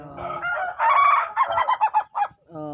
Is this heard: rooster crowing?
yes